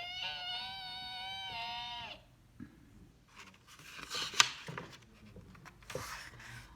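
A voice mimics car brakes screeching, a sustained high-pitched squeal with stacked harmonics lasting about two seconds, loud and close, then fading into quieter room noises.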